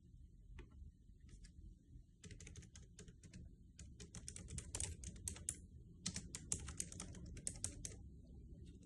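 Typing on a backlit wireless keyboard: soft, quick key clicks come in irregular runs over a low steady background hum, close and fairly quiet, with no talking.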